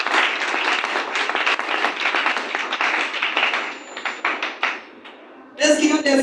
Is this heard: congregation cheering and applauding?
yes